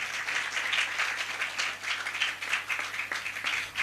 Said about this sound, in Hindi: पवित्र आत्मा के लिए तालियों के साथ धन्यवाद दीजिए